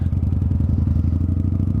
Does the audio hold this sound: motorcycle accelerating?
yes